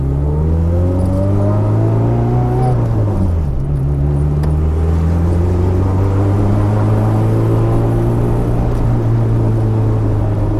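Inside an Eagle Talon fitted with a new turbo and a six-puck unsprung clutch, the engine drones loudly as it drives, the pitch climbing, dipping at a shift, then holding steady with a deep vibrating rumble.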